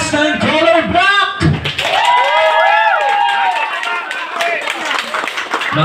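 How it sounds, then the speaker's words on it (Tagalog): A crowd claps loudly and cheers for a contestant in a dance contest, with sustained dense applause, shouts and overlapping voices throughout. "Palakasan ng palakpak ha."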